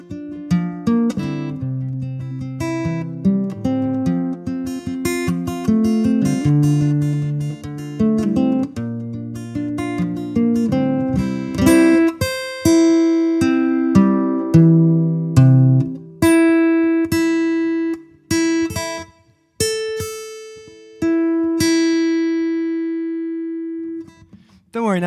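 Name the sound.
out-of-tune acoustic guitar with old strings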